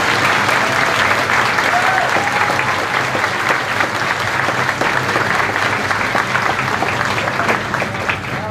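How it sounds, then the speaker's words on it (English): A large audience at a kindergarten celebration applauds the children, dense clapping continuing steadily at full volume for several seconds with faint voices mixed in. "let's clap for all of these wonderful kids"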